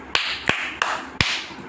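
Hands clap in a sharp, evenly spaced series of four or five close, crisp claps, with a fainter one trailing at the end.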